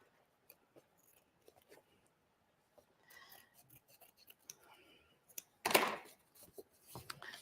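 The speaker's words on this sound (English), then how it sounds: "so I'm just going to use the scissors" Scissors snip through cardstock while crafting embroidered Christmas cards: a few quiet, sparse cuts at first, then a brief louder rasping burst of cutting near the end, close and otherwise quiet.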